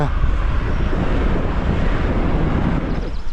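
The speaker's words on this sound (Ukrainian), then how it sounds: "Трошки вітряно, правда, вітряно" Strong wind rushes and buffets against the microphone in a constant low roar while a cyclist rides along outdoors on a 200 km brevet.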